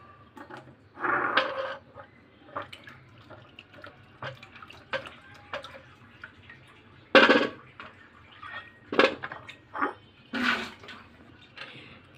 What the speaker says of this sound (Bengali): এগুলো ভালো করে ধুয়ে নেব আমি।